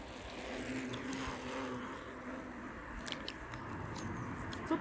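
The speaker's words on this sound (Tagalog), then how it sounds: "Ang dami naman sasakyan na dumadaan." Steady traffic noise from vehicles passing on a road, a continuous moderate rumble and hiss with faint rattles and clicks, heard from nearby while walking.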